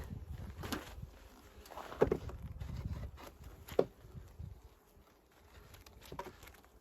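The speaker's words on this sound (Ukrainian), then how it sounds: "Утеплили, подушечку ще зверху і хай бджолки наші працюють." Honey bees buzz around a hive at an apiary as it is covered and insulated, a soft continuous hum with scattered light knocks and rustles of handling nearby.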